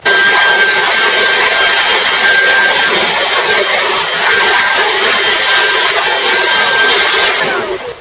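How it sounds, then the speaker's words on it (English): A leaf blower roars loud and steady, blowing standing water off a car engine after a wash, a continuous rushing whoosh with a thin whine that fades at the end. "I'm going to use the blower, the leaf blower. I'm going to blow out all the excess standing water."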